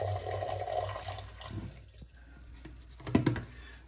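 Liquid poured from a jug down into a toilet bowl, with a continuous splashing gurgle that fades, followed by a few quiet drips and a short burst of splashing near the end.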